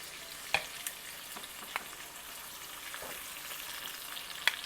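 Meatballs for sweet and sour bola bola frying in a pan, a soft continuous sizzle with occasional sharp pops and crackles, fairly quiet and close, with no talking.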